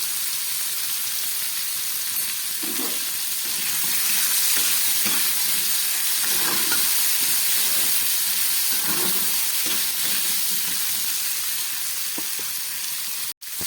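A mixed vegetable curry with cumin powder fries in a pan in a steady, close hissing sizzle, with soft stirring scrapes surfacing every second or two and a brief knock at the very end.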